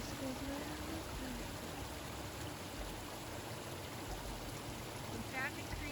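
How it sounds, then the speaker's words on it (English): A creek with ice flows steadily nearby, a constant broadband rush of running water with faint brief tones near the end. "We found a creek"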